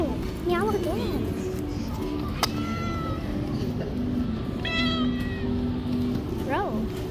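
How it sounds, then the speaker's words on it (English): A cat meows several times, short rising cries scattered through steady traffic and outdoor background noise, with speech from nearby people heard around it. "Stop meowing. Why do you keep meowing?"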